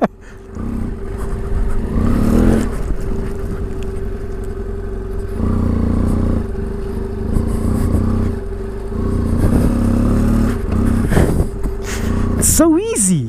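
An off-road adventure motorcycle ridden over rough terrain, its engine droning and rising and falling with throttle, plus clattering from the ride, while a rider talks over it throughout.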